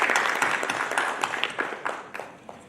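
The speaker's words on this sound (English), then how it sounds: "So please welcome Mr. Sanjeev Sondiji with big round of applause." Applause from an audience welcoming a speaker at a trade road show, a burst of mixed clapping that starts fairly full and fades, leaving scattered individual claps trailing off.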